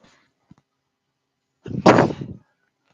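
A single loud sneeze bursts out close to the microphone after a quiet moment with a couple of faint small noises.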